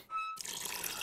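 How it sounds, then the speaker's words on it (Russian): Water pours in the video game Samorost 2, a brief tonal chime giving way to a steady, soft rush of running liquid. "Водички надо налить."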